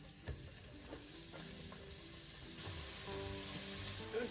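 Onions sizzle in oil in a saucepan, a quiet steady frying hiss with a few soft stirring knocks and clinks from a utensil, no voices.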